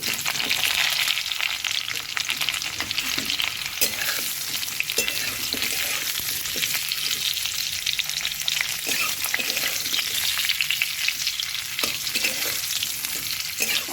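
Raw mango pieces fry with panch phoron and chili in hot oil, a dense, continuous close sizzle broken by occasional stirring scrapes and clicks, with no talking.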